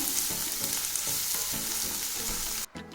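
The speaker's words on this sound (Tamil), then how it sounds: "எண்ணெய் நல்லா சூடாயிடுச்சு. ஒரு வெங்காயம் கட் பண்ணதை போட்டுடலாம்." Finely chopped onion frying in hot oil, a dense continuous sizzle with rhythmic stirring scrapes, close and steady, then a brief dropout near the end.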